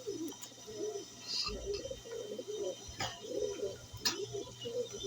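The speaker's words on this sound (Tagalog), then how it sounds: "Agawan sa pwesto kasi yan, mga ibon natin." Racing pigeons squabbling over a spot coo and grumble in overlapping low calls, with a few sharp flutters and scuffles, set against faint background hum.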